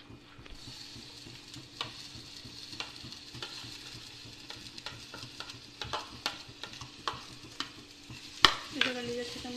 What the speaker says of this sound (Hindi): इसे हल्का ब्राउन होने तक भून। प्याज हमारी हल्का गोल्डन ब्राउन हो चुकी है।